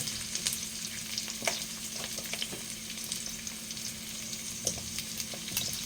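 Sweet potato (kamote) pieces fry in hot oil for kamote cue, a steady close sizzle with scattered pops and light crackles throughout and no voices.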